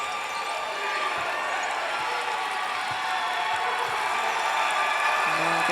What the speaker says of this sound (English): The crowd getting more into it.